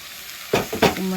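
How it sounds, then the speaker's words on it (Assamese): Pumpkin pieces hit a pan of frying banana flower with a burst of sizzle, followed by a couple of quick scraping stirs, close up and with no speech. "ভজাৰ পিছত এতিয়া দি দিম কোমোৰাখিনি"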